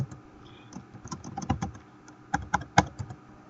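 Typing on a computer keyboard while working at a Linux terminal, with close, irregular key clicks in short bursts and scattered single taps, a few strokes louder than the others.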